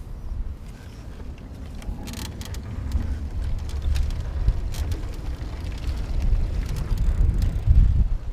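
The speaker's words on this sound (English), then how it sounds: "I might just start off with pedal assist here, and pay attention to like how quickly the motor turns on and turns off" A 2015 Rad Power Bikes RadWagon electric cargo bike rides on pedal assist, with low rumbling road and wind noise building steadily and faint mechanical ticks, with no talk.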